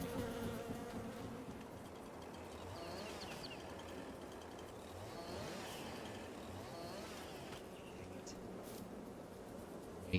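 Farm bees buzz around the microphone, a near, wavering drone that rises and falls as insects pass close by, with a faint engine rumble far off and no talk.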